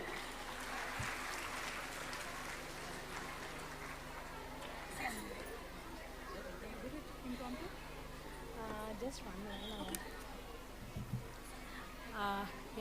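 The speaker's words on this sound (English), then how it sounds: "Please keep clapping." An audience at a high school event claps in a soft, distant patter that is strongest at the start, then fades under a speaker's voice and scattered room noise.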